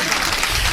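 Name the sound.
audience applause at a poetry gathering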